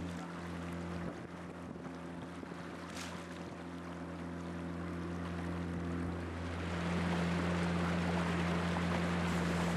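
A boat's outboard motor idles with a steady low drone at moderate distance, with wind and water noise rising toward the end and no speech.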